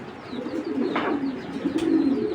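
Low, soft coos of two female racing pigeons repeat close by in a gentle rolling rhythm, with a brief faint rustle between calls.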